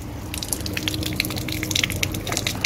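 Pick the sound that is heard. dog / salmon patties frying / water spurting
water spurting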